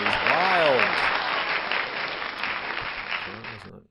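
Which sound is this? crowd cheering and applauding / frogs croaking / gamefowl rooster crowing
crowd cheering and applauding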